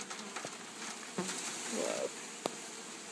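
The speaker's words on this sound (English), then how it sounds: "he's going to pour all the bees in there" Honeybees pour from a package into a top bar hive, giving a soft, faint buzzing hum with a few light knocks and taps. One person gives a brief exclamation.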